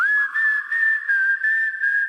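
Whistled melody in a recording of the Gravity Falls theme song, one clear sustained tone with light pitch wavering, heard up close over soft, pulsing backing instruments.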